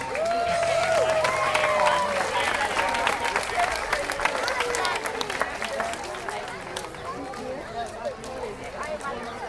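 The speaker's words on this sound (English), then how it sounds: "let's give a round of applause" A zoo audience claps for arriving keepers, a lively patter of hands mixed with crowd babble and voices talking, the clapping gradually thinning as chatter continues.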